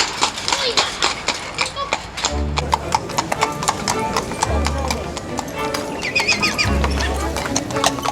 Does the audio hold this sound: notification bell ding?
no